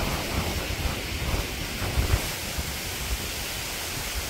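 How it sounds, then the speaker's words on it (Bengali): Strong wind in a village ahead of a storm, a loud, continuous roar buffeting the microphone with gusty low rumbles throughout and no voices. "বাতাস কিন্তু প্রচুর বাতাস।"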